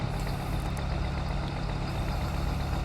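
A tractor engine in Farming Simulator 22 idles with a steady low rumble, continuous and fairly loud throughout, with no talking.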